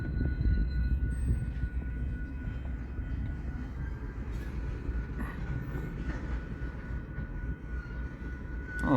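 A BNSF freight train crossing off the C&W main onto Union Pacific's Transcon line, a steady rumble of rolling cars with faint clicking wheels, loud and continuous, with no voices.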